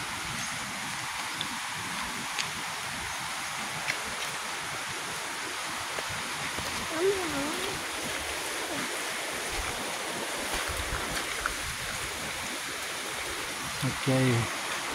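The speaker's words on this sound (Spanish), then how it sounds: "Sí, hay agua," Mountain stream water rushing steadily through the Cuyamel mountains, a continuous broad wash with wind buffeting the microphone and a brief knock near the end.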